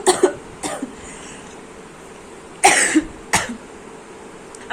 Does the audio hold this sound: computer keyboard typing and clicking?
no